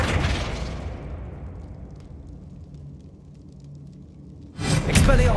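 The Flipendo spell fires in Hogwarts Legacy with a loud blast and whoosh that rumbles away into a low tail, followed by a sudden bright magical burst near the end.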